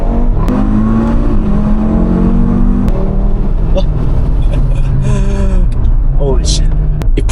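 A tuned Audi RS3 accelerates hard, its engine note climbing in rising sweeps through several gear changes, loud and close-up from inside the car, with a brief voice breaking in partway.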